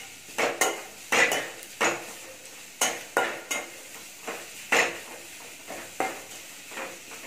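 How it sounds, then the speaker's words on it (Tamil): Strips of chapati tossed and sautéed in oil in a pan, hotel-style chapati noodles: a spatula scrapes and clatters against the metal in a quick, irregular rhythm over a low sizzle, close and clear, with no talking. "நல்லா இந்த எண்ணெயிலேயே நல்லா வதக்கணும்."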